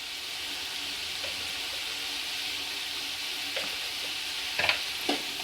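Peas fry and sizzle in a pan over a high flame, a steady hiss under occasional faint scrapes and clinks of stirring, with no voices.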